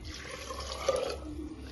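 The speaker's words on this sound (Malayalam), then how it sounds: "നമുക്ക് ആവശ്യത്തിന് വെള്ളം ഒഴിക്കാം" Water pouring into a pressure cooker holding soaked chickpeas and salt, a steady soft liquid wash with a brief louder splash near the middle, close and alone.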